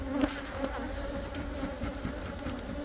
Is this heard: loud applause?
no